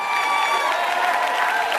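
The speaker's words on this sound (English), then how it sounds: "Keep your hands clapping, family" An audience at a business opportunity presentation claps steadily in a dense, continuous wash of hands with faint crowd murmur, loud and unbroken throughout.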